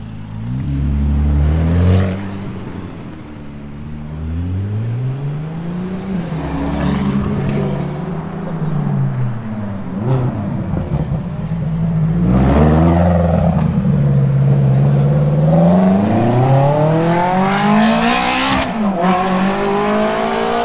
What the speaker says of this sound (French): Pour l'instant cette F430 c'est celle qui a le plus beau son.